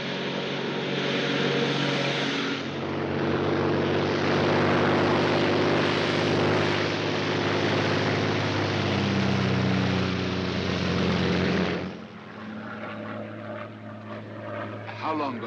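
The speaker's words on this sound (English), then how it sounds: "a Royal Air Force plane is waiting for us at a secret landing place" A Royal Air Force propeller plane drones steadily in flight, a loud sustained engine roar heard from inside the cabin that eases near the end as voices speak.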